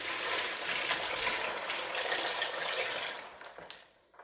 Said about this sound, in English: Add some more water to cover her up.